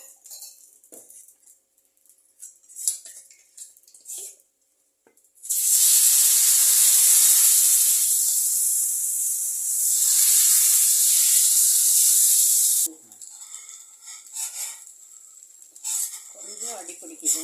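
Dosa batter poured onto a hot Indus Valley cast iron tava during seasoning sets off a loud, steady sizzle lasting about seven seconds, with quieter kitchen clinks and handling before and after.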